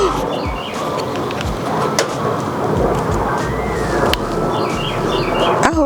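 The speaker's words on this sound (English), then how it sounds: "we've been getting nothing but rain" Steady rain outdoors in a garden with pepper plants, with a continuous hiss, a deep rumble of thunder and birds cooing faintly, loud and close, with no voice.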